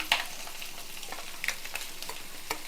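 Egg curry with gravy sizzling in a hot pan, a steady close frying hiss broken by scattered sharp pops and crackles, with no one talking.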